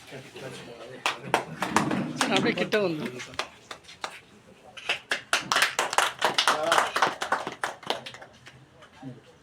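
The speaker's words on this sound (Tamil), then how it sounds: "நாமெல்லாம் கரகோஷம் செய்யும்படி" An audience at a party members' gathering claps in uneven bursts, individual sharp claps rising and falling while people talk over them nearby.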